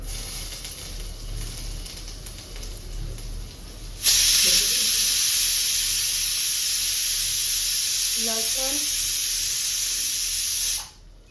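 Oil poured into a hot pan on the stove, a loud steady hiss and sizzle starting suddenly and holding for several seconds, with brief clinks partway through, then cutting off.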